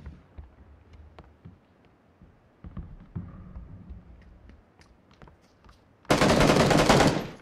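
Video game gunfire: a string of sharp single shots and short bursts at moderate distance, then a sudden loud, sustained burst of rapid automatic fire close by near the end.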